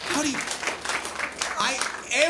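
Brief applause ripples through the audience at a library comedy showcase, with talk and laughter-like voices running over the clapping throughout.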